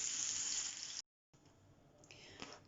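Cutlets shaped by wet hand, without breading, sizzle in a frying pan with a steady broadband hiss, briefly cut off by a short silence before the sizzling resumes a little quieter.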